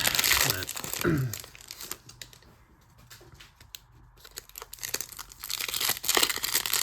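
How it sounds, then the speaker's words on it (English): Topps NBA trading card packs being torn open, with loud crinkling foil and ripping at the start and end and softer rustling in between; a person speaks briefly. "A lot of pack ripping."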